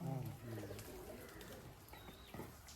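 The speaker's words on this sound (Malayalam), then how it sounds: "ഇതുണ്ട് പ്രാവ് ഇരിക്കുന്നുണ്ട് അല്ലേ?" Pigeons coo at a farm, several soft low throaty coos up close at the start, then fading into quieter bird calls and general farmyard sounds.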